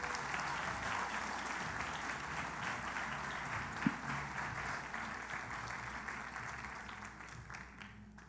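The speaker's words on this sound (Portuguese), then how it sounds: "eu queria que você recebesse eles com uma salva de palmas" A church audience applauds to welcome guests on stage, with dense sustained clapping filling the whole stretch and easing slightly near the end.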